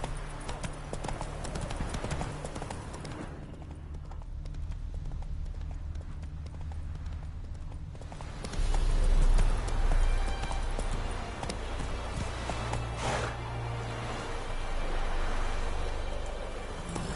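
A horse gallops in The Witcher 3: Wild Hunt, a steady, close clip-clop of hooves over constant outdoor ambience, growing heavier briefly midway.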